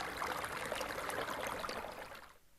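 River water flows steadily in a continuous trickling, babbling wash, fairly close and even, fading out at the end.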